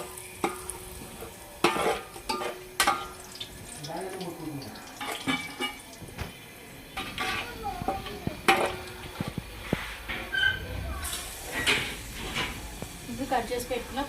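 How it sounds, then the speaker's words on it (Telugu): Whole spices dropped into hot oil in a handi for mutton curry, giving a close, continuous sizzle and hiss with stirring scrapes and clinks, no speech over it. "మంచిగా కాయింది కదా, ఇప్పుడు మసాలా దినుసులు అన్నీ వేసేసుకోండి"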